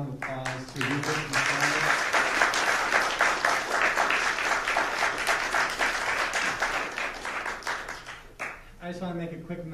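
A community concert audience breaks into sustained applause, dense clapping that fills most of the stretch before tapering, with a voice heard briefly at the start and end.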